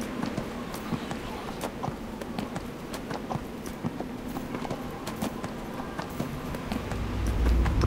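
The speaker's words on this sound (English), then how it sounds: "Alright, let's get on the horse." Horse galloping in the fantasy game Neverwinter, a rapid, steady clatter of hooves that carries on without a break, with a low rumble building near the end.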